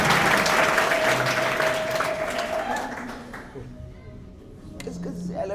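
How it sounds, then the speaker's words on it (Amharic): A church congregation cheers for Jesus with loud applause and a high sustained ululating trill over crowd voices, then the noise fades into scattered claps and talk. "ለጌታ ለኢየሱስ እልልታ ያለው"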